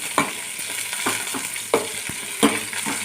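Coriander seeds and cumin are stirred in a hot pan, making a soft continuous sizzle. A spoon scrapes and taps against the pan in a few distinct strokes.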